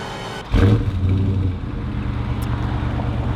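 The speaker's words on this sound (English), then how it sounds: "I'm just gonna get a little remote start here so you guys can hear the exhaust" A Dodge Charger Scat Pack is remote started, the engine turning over and catching, its exhaust rising into a deep, steady rumbling idle that carries on close by.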